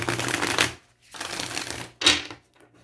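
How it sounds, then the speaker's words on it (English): A tarot card deck is shuffled close up in three quick riffling bursts, each a crisp papery flutter separated by short pauses. "One last shuffle,"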